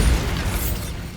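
An explosion spell going off in the Hogwarts Legacy video game: a short, loud, dense blast with a heavy low thump at the start and a rumbling noisy tail.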